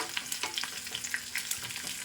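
Shallots and mustard seeds sizzle in hot oil for a Kerala-style avoli fish curry, a close, steady frying hiss with quick crackles and pops scattered throughout.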